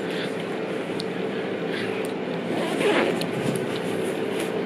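A zipper on a bag is pulled open in one steady, continuous rasp over a constant background hum.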